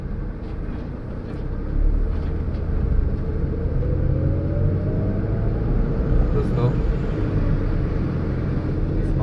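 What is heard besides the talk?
Renault car driving slowly on the road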